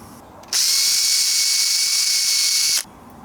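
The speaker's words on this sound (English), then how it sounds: "So I'll pop it back in the vise and give it the once over with a wire buff." A wire buff on a power tool cleans a solid copper busbar held in a vise, giving a loud, steady high-pitched whir that lasts a little over two seconds and then stops abruptly.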